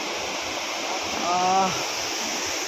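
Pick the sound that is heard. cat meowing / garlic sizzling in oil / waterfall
waterfall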